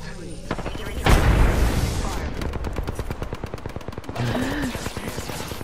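Rapid automatic gunfire in Apex Legends, with one heavy blast near the start and then a long, steady stream of dense, fast shots continuing throughout, loud and close.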